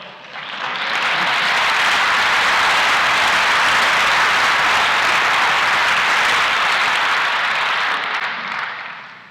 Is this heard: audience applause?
yes